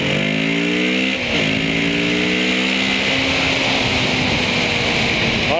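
A Kawasaki Z650 motorcycle at full throttle, its loud, close engine note climbing in rising sweeps, breaking off at a gear change, then pulling hard again in a strained, buzzing roar.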